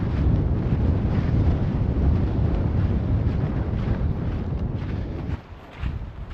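Strong wind roars across a tarp campsite in heavy rain, buffeting the microphone in a dense, loud rush that barely dips near the end.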